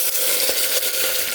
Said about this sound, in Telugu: నెక్స్ట్ కొంచెం కలిపాక కరివేపాకు వేసుకోవాలండి.